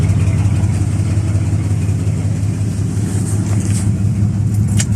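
A car engine idles steadily close by, with a low, even rumble and no voices.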